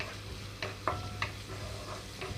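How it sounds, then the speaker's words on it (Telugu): Chopped onion pieces sizzling in hot oil over a medium flame, a soft steady fry broken by a few light stirring clicks, fairly quiet and close with no talking. "ఆయిల్ హీట్ అయిన వెంటనే ఉల్లిపాయ ముక్కలు వేసేస్తున్నాను ఇక్కడ మీడియం ఫ్లేమ్లోకి టాన్ చేసి ఉల్లిపాయ ముక్కలు కొంచెం వేయించుకుంటున్నాను"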